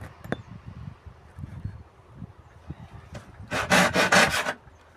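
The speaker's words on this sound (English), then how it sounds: "That cut, that dowel is cut." A hand saw cutting through a wooden dowel of reclaimed wood, a short burst of rapid back-and-forth strokes near the end after faint scattered knocks and rustling, close and fairly quiet.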